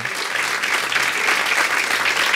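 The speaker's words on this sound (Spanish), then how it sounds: "Aplaudan al Señor." A church congregation applauds steadily and loudly during a Spanish-language worship service, a dense wash of many hands clapping at once with no break.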